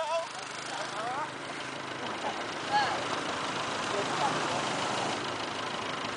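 A tractor engine runs with a steady, rough rumble throughout, with voices faintly in the background.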